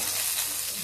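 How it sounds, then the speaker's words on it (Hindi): Cumin seeds sizzle in hot ghee, a dense, bright hiss that holds steady through a brief moment with no voices. "अब मैं इसमें 1 स्पून जीरा डाल देती हूँ।"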